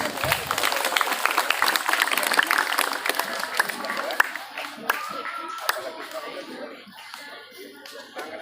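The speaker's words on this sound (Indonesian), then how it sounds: "Berikan tepuk tangan." Applause at a madrasa school gathering during Ramadan, a crowd of hands clapping steadily and fairly close, gradually thinning out, with children's voices and chatter mixed in.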